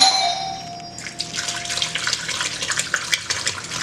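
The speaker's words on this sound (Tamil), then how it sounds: "கொஞ்சம் தண்ணி ஊற்றிக்கோங்க" Water pours and splashes into a container of milk cream for churning butter, a close, bubbly trickle after a brief metallic ring at the start.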